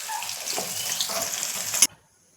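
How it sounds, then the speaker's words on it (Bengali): Paneer frying in hot oil gives a close, steady crackling sizzle with light spatula scraping for about two seconds, ending in a brief clatter before cutting abruptly to silence. "দেখো আমার পনিরটা ভাজা হয়ে গেছে, আমি এবারে পনিরটা তুলে নিচ্ছি"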